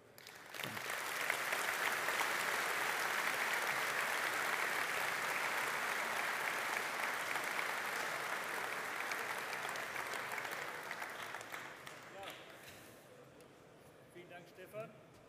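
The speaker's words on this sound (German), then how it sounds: "Applaus hast du schon bekommen" Sustained audience applause after a presentation at a farming-game fan convention, a loud dense wall of clapping for about twelve seconds that gradually fades to scattered claps and faint crowd murmur.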